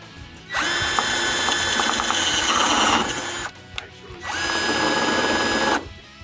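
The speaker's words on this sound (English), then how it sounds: "so that's what I'm going to do, is drill a 1/2 inch hole." Power drill boring a half-inch hole through model railroad layout fascia, two loud high-pitched whining bursts of a few seconds each separated by a short pause, close up with no talk.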